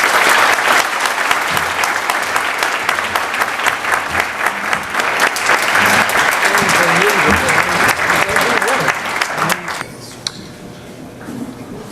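Sustained audience applause fills a hall at a Hanukkah-season annual charity dinner, dense clapping that holds steady and loud before dropping away near the end, with a little crowd murmur beneath.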